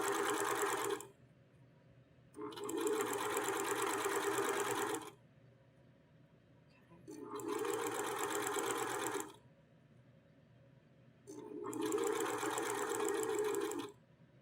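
Sewing machine stitching a quarter-inch quilt seam on a table runner, running in four steady bursts of about two to three seconds each, separated by short pauses, close and clear with no talking.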